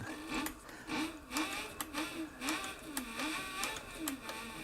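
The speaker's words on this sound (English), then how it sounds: "I'm sewing without a guide." A leather sewing machine stitching steadily without a guide, its needle thumping in a regular rhythm with a whirring motor tone that rises and falls, close and continuous.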